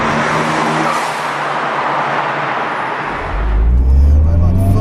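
A 21-year-old Mitsubishi Evo 6 accelerates hard in first gear, its turbocharged engine note rising loudly from inside the car, then a deep low rumble swells near the end; no words are heard.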